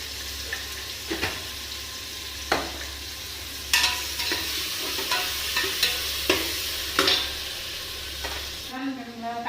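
Tomatoes and onions with turmeric sautéing in a pan, a steady sizzle broken by regular scraping strokes of a spoon against the metal, fairly close, ending with a brief bubbling swirl.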